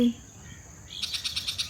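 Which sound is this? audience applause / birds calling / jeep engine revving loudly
birds calling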